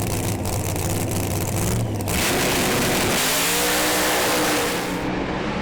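A Holden Monaro drag race car launches hard down the strip, a loud roaring engine that rises in pitch as it accelerates away and fades toward the end.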